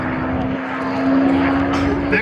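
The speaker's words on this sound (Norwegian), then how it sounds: "alle i hele verden som er litt interessert i fly, kjenner igjen en Spitfire" A Supermarine Spitfire, the British propeller fighter from the mid-1930s, flies at an airshow, its engine giving a steady, sustained drone with a strong low hum throughout, rising slightly midway.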